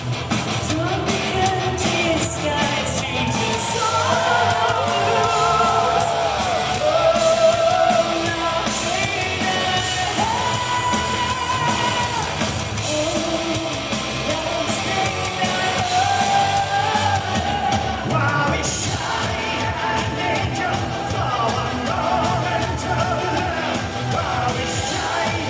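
Crowd at a St. Patrick's Day concert yelling, shouting and whooping together, loud and sustained over music for the whole stretch, with no separate voice speaking.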